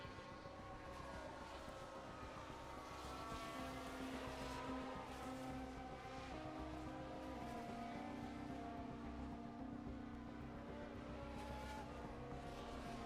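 Formula 1 race cars roar in the F1 Manager 23 racing game, a steady, loud high-pitched engine whine with layered pitches that rise and fall slightly as cars pass, continuous throughout with no talking.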